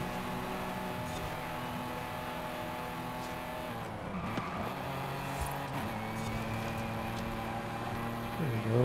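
Race cars overtake in the Forza Horizon video game: a droning engine tone rises and falls as the cars jostle, with brief tire squeals and skids through the pass.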